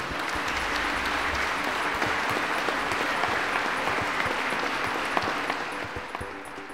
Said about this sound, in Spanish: a quien pido un aplauso fuerte